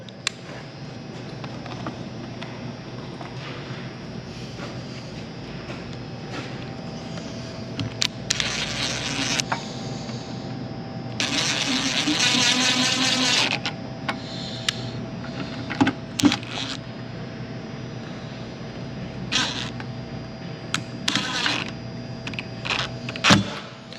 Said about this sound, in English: when I'm screwing down into this template